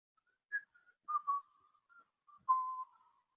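Soft, breathy whistling drifts from inside a house with its door lying half open, a few short notes followed by longer held tones, quiet and somewhat distant, with no talking.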